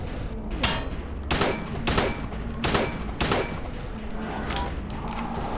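Gunfire in the survival horror game Silent Hill 2, with about seven sharp, loud shots in irregular succession over a low ambient drone.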